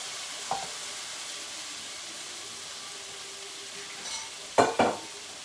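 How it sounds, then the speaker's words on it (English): Potatoes going into a pot for a sugar bean curry give a few sharp splashing hits and bursts of sizzle over a quiet background hiss, close by. "I'm putting the potatoes in now"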